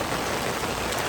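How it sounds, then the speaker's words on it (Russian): Steady rain falls in a continuous, even hiss, close and fairly loud, with no voices. "Это дождик, да?"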